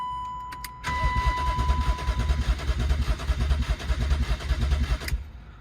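A BMW E36 engine cranks steadily without catching, a loud, continuous churning of the starter turning the motor over for about four seconds with a faint whine near the start, then cuts off.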